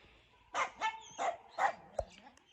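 Several dogs barking outdoors on a cold night near a Kangal, four or five sharp barks in an irregular burst followed by a lone yip, fairly close and clear with no talk over them.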